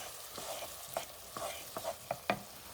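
Grated tomato and chicken stirred in a frying pan for chicken fricassee, a soft low sizzle broken by several scraping strokes of a utensil against the pan, close and fairly quiet, with no talk.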